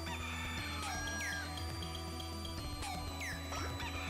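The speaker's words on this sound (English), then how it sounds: "looks like we're collecting these chickens" Chickens clucking and squawking in a cluttered game scene from Katamari Damacy Reroll, with a steady bed of bright music and repeated short bird calls. No voices are heard.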